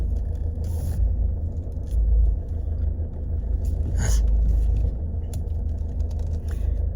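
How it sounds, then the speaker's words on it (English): A car idles close behind while the driver waits to pull out, giving a steady low engine rumble with a brief swell midway and no talking. "There's a car behind me waiting to come in"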